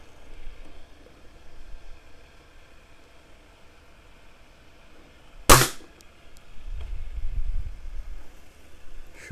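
A single sharp shot from a Swiss Arms TG1 4.5 mm air rifle during a precision test, a loud close crack standing alone against quiet background hiss, followed by a low rumble.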